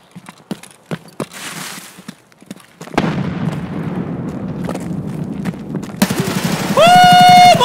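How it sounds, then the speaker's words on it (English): Grenade blast in Escape From Tarkov thrown upstairs inside a building: scattered sharp clicks and footsteps, then a sudden loud boom whose rumble sustains for seconds before a ringing high tone takes over. "I'm gonna throw one grenade upstairs."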